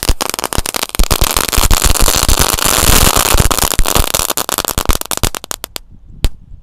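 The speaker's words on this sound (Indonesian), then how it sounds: "Selanjutnya ini ada mercon telur dino pretek atau mercon kretekan." Loud rapid firecrackers, three packs of Indonesian dino egg crackers lit at once, crackling in a dense burst of pops, continuing for several seconds before thinning to a few scattered bangs.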